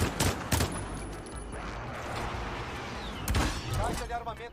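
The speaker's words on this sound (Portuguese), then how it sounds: "Muito tiro aqui" Heavy video game gunfire erupts in loud, sharp bursts at the start and again near the end, with a steadier rattle between and voices talking over it.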